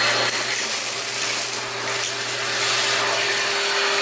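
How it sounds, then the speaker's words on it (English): A Shark vacuum cleaner runs with a loud, steady motor whine and airy suction roar, close and continuous as it sucks up debris, with faint rattles of material passing through. "we're just going to lift it up and pull back and it will get sucked into the cleaner"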